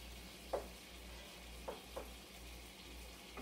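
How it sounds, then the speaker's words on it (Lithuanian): Tomatoes fry in a pan with a soft, steady sizzle, broken by a few faint stirring scrapes. "Viski dar kepam, kol pomidorai visai suminkštės"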